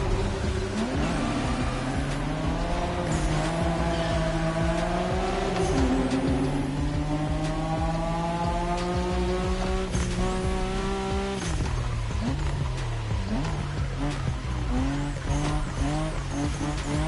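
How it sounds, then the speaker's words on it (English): A car drifts in a racing video game, with squealing tires and the engine revving up and down. The sound is loud and continuous, the pitch rising and dropping as the car slides. "Don't you forget, it's all about drifting. Oversteer while maintaining control for a high exit speed."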